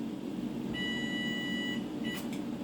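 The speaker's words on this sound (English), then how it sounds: "And you know the timer will keep on beeping at you." A kitchen timer beeps in a steady run of tones during grits cooking, then a couple more beeps follow over a constant background hum, with no talking.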